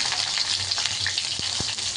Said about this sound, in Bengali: আলুগুলো একটু ভাজা করে নেবো আগে।